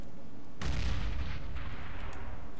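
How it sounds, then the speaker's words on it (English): A grenade blows up in the video game CS:GO with one loud, sudden boom that rolls off into a rumbling tail lasting about two seconds. "Grenade out!"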